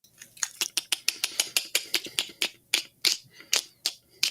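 A human voice imitates the Predator creature's mandible clicking, producing a rapid, loud, close series of sharp dry clicks in an even rattling rhythm, alone without speech.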